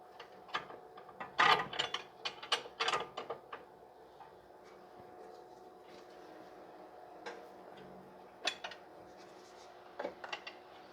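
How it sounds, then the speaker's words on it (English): A ratchet wrench loosening a lower control arm bolt on a 2009 Pontiac, heard as bursts of quick metallic clicking, busiest early on, then sparse clicks later over a quiet background. "So right now I'm just going to loosen up the bolt."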